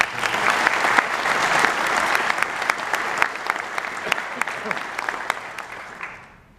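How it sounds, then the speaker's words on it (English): A crowd claps at a swearing-in ceremony in a cultural arts center, with full, loud applause that thins to scattered distinct claps and fades out near the end. "Could we have a round of applause?"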